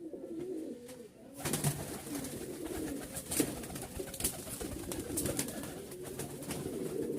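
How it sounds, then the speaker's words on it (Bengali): A crowd of pigeons kept for hand-release flying coos as a low, continuous murmur. The calls stay faint and blend into steady background noise. "অনেক কবুতর আছে"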